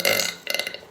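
A woman lets out two loud, close burps, a long rasping one followed quickly by a shorter, choppy one, with no talking.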